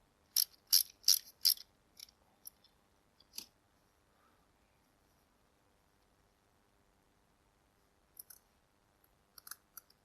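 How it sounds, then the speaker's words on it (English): Bolts being tightened while a model plane is assembled: a quick burst of sharp ratcheting clicks up close, a few scattered taps, a long quiet stretch, then a couple more short clicking bursts near the end. "I'm going to put a bolt through the middle of there for a minute just to keep that lined up while I do these up."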